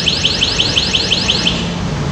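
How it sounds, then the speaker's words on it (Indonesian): An anti-theft alarm on a U-Winfly electric bicycle at a dealer shows blares loudly and steadily, with a rapid series of about eight rising electronic chirps repeating over a harsh continuous tone. "Kalau tinggal matiin alarm"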